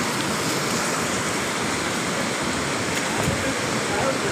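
Swollen river in Vilangad rushing after a 2024 landslide, a loud, steady, broadband roar of floodwater filling the whole stretch without pause.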